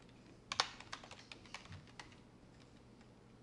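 Light, close computer keyboard typing: a quick run of soft key clicks, a few louder strokes near the start, then sparser taps, quiet throughout with no talking.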